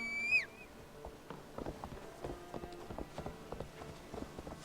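Horse hooves clip-clop at a steady walking pace in Assassin's Creed Valhalla, soft and fairly close, with a brief high tonal sound at the start and no talk.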